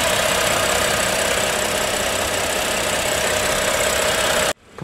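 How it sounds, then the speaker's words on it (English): A 2018 BMW X5 with a 3.0-litre turbocharged six-cylinder engine idling, a loud, steady, even hum with faint knocking texture that holds for several seconds and then cuts off abruptly near the end. "the X5 is a 3-liter turbocharged 6-cylinder"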